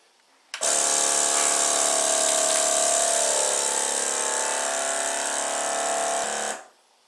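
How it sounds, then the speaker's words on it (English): A steady mechanical whir of a vacuum sealer pump packing sausages runs for about six seconds, loud and close, then cuts off. "We vacuum pack them."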